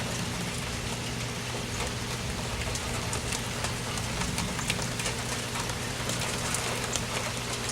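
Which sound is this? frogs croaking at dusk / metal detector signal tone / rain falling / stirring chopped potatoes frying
rain falling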